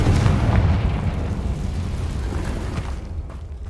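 A Confringo fire-blast spell goes off in Hogwarts Legacy with a deep, rumbling boom at the start that rolls on and slowly fades, with no other sounds over it.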